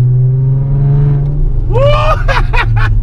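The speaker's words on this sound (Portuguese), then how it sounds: "tá vendo o carro ali, ele tá acelerando" A car engine revs and accelerates, rising in a strong climbing whine over a steady low hum, with several sharp surges toward the end and background chatter beneath.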